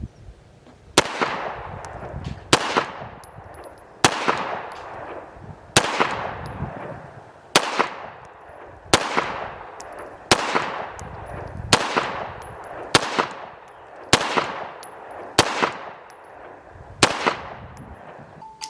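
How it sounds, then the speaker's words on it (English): Pistol shots from a Kovert Watchtower Apache fired at about 10 yards: a dozen loud, sharp cracks at a steady, unhurried pace roughly every one and a half seconds, each with a short ringing tail, and no talking. "I'll put up some footage of me shooting from about, I think, 10 yards or so"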